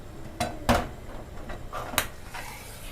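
A spoon stirs a tablespoon of vinegar into water in a metal pot, striking the pot in a few sharp, close clanks spaced irregularly, with quieter scraping between them.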